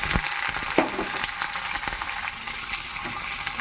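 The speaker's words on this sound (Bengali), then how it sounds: "এবার পেঁয়াজ ভালো করে ভেজে নেব" Onion, cinnamon, cardamom and a bay leaf frying in oil in a kadai, a close, steady crackling sizzle with a few stirring clinks, alone without voices.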